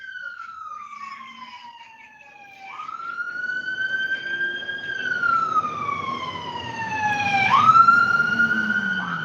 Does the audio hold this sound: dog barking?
no